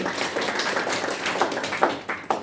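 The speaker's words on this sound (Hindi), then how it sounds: "यहाँ पर मैं अनिल सर के लिए एक बार जोरदार तालियां चाहूंगा बूस्टर के साथ।" Enthusiastic clapping from an audience at a leadership development program, applauding Anil sir, dense and continuous with a few sharper claps near the end and no speech.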